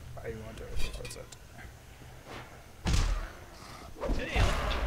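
A door slams shut in the video game Dead Island, a heavy thud standing out among game noise while people talk over it.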